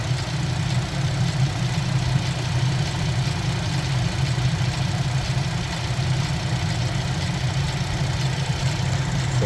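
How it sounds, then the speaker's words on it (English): Car AC compressor engaged and running with the engine idling: a steady, close, low mechanical drone with a faint knocking texture that holds evenly throughout, with no voices. "And you can hear the compressor just kicked on."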